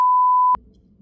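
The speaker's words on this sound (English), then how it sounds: "I'll beep that." A steady, pure censor bleep covers a swear word, loud and unbroken for about half a second before cutting off abruptly into faint room noise.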